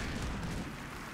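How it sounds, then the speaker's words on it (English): Mortar strike impacts in Medal of Honor: Warfighter, a dense continuous rumble of close blasts and debris, loud and sustained with no distinct separate booms. "And then I'm going to call in some mortars."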